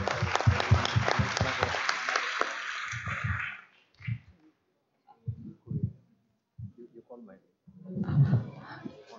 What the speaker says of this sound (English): We'd like to give again a round of applause to all the members.